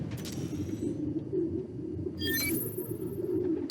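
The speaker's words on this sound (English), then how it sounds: "Place was swarming with pigeons." Low, murmuring coos from a group of pigeons in a Marvel's Spider-Man: Miles Morales sound sample, continuous and close, with a few faint mechanical clicks and high chirps mixed in.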